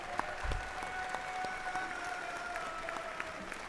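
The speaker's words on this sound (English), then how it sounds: "Let's just give Big Excalibur a round of applause." Audience applause at a professional wrestling show, a steady wash of clapping from a large crowd that holds at an even level throughout, with faint tonal hum in the background.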